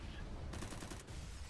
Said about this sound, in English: I hear an AK.